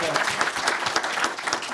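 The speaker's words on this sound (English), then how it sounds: "Give them a round of applause, please." An audience at the Children's Media Conference 2024 applauds panelists on stage, producing a steady, dense burst of many hands clapping at moderate volume throughout.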